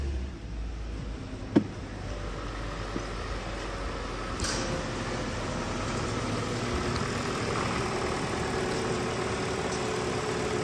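A 2017 Hyundai Elantra with a 2.0 liter engine idling, a steady, even hum at moderate level with no talk and a faint click near the start.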